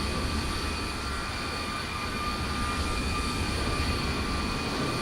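Kenya Airways Boeing 787-8 engines run in a flight simulator game as a steady, dense drone with a thin high whine and no change in level.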